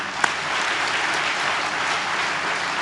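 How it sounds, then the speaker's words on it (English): Audience at a graduation ceremony applauding steadily, a dense, even wash of many hands clapping that holds for the whole moment. "give them a hand"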